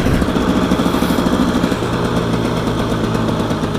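Enduro motorcycle engine idling steadily up close, a continuous loud burbling rumble with no talk over it.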